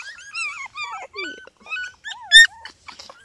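Three-week-old beagle puppies squealing for food: a close, loud jumble of high, wavering whimpers and yelps in short bursts, with one sharper cry near the end and no talk.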